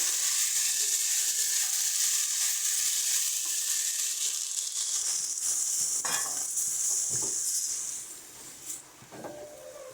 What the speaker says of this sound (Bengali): এবার এর মধ্যে দিয়ে দেবো পরিমাণ মতন জল